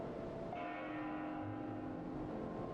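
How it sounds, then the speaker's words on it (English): A bell rings in the game Xenoblade Chronicles 2, sounding as a steady, sustained tone with lingering resonance over a quiet ambient background, with no talking. "That bell sound must be coming from somewhere."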